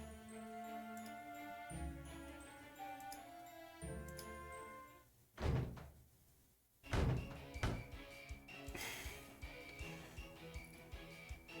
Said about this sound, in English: she slammed the door